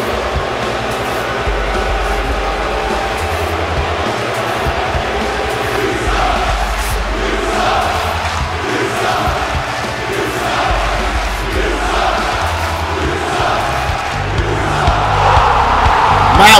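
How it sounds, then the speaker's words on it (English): A wrestling crowd at an MPWF event roars with sustained cheering and ovation, loud and continuous throughout, swelling further toward the end with music or arena noise underneath. "what an ovation there"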